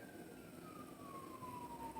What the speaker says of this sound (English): Hear the cop, hear the siren?